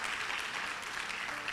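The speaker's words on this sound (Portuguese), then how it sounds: "Pode aplaudir mesmo ao Senhor." A church congregation applauding during a sermon, a steady wash of clapping at moderate distance, continuous and fairly even throughout the short moment.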